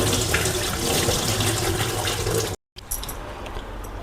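Water pours steadily over poha (flattened rice) being rinsed for poha chakli: a loud, continuous splashing rush that cuts off abruptly, then resumes more softly with light trickling.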